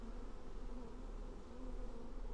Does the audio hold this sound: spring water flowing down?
no